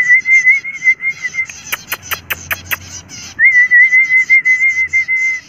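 A person whistles a steady, high, warbling tune to zebra finches in a rooftop garden, pausing midway for a quick run of sharp tweeting calls from the small birds before the close, clear whistling resumes.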